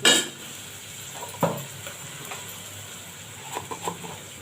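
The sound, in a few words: garlic paste added and stirred in a cooking pan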